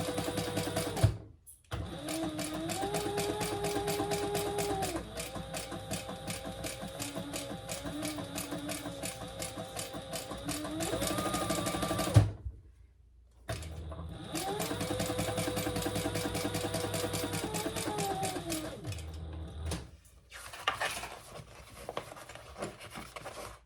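A sewing machine stitches in red thread around the outside of a crossbody bag, running in long steady whirring bursts close by, with short pauses between runs and speed dipping at the curves.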